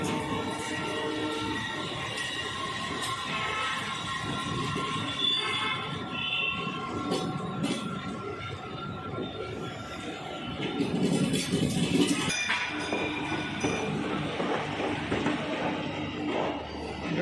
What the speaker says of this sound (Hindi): जयपुर मेट्रो निकल रही है